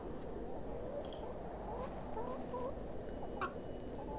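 Hens in the video game Hob's Barrow cluck softly in short, scattered calls over a steady, dense background ambience, with a couple of brief sharper clicks.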